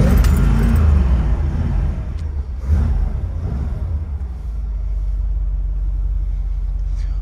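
Corvette V8 rumbling after startup, a loud, deep, steady idle that surges briefly before settling into a constant low growl.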